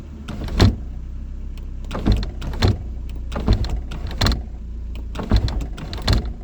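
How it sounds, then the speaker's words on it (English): A car's electric sunroof motor whirs in short repeated bursts, each run ending in a soft mechanical clunk, heard up close inside the cabin. "This is the first car I've ever had with a working sunroof."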